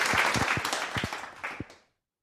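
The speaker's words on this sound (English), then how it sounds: "Please give him a virtual round of applause." A short round of applause at an online morning devotion, dense clapping with a few sharp distinct claps standing out, fading out over about two seconds.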